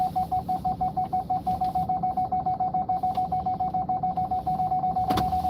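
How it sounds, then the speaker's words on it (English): Car backup beeper while reversing, a steady rapid series of loud, close electronic beeps pulsing evenly over road and engine noise. "Hopefully this backup beeper is going to go off."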